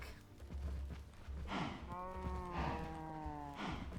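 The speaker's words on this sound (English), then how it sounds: "So many cows." Several cows in the Minecraft GregTech modpack low out in a string of drawn-out, overlapping moos, fairly close and clear over a soft constant background, with no talking.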